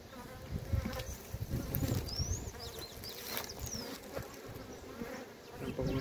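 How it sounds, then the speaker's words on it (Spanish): Honeybees buzz steadily and close around an opened beehive checked for food reserves during hot weather on pasture, a dense continuous insect hum with a few sharper passing whines, no talking. "Aquí tienen abejitas."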